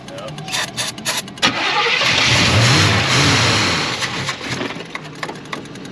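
A 1980s Chevrolet Camaro engine cranks and then catches on brake cleaner, swelling into a loud, rough roar before settling back, with people talking nearby.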